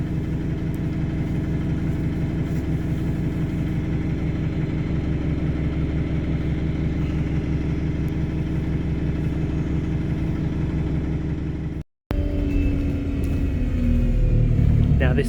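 Engine of an Alexander Dennis Enviro 200MMC bus heard from inside while riding, a steady low droning rumble that continues throughout, with someone talking over it and a brief dropout near the end.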